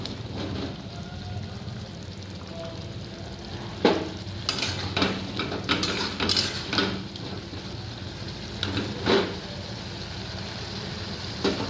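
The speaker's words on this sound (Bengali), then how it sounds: "এবার আমরা কচুটা দিয়ে দেবো।" Taro pieces go into a pan of fried spices and are stirred, scraping and clattering in irregular bursts over a steady soft sizzle, close and moderately loud.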